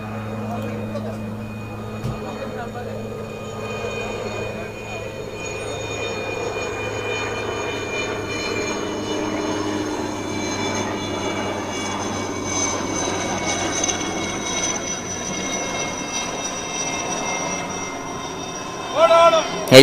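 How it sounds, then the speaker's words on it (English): A steady helicopter engine drone with a tonal whine as it roams overhead at a cricket match, continuous and moderately loud throughout. "Helicopters just roaming around."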